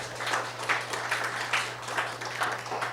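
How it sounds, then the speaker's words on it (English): Light, thin applause at a community meeting, a modest group clapping in soft irregular bursts under a steady low hum, fairly quiet and distant throughout. "So yes, applause for Tara."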